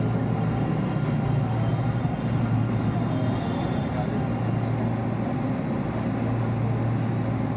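A Manila LRT Line 2 light rail train rumbles along steadily with a constant low hum and faint wheel noise, heard from inside the car.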